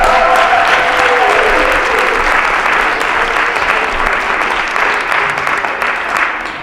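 A crowd claps loud and dense for Dr. Dudley Flood at a Black History teach-in, a sustained even wash of hands that tapers slightly toward the end, with a brief voice at the start.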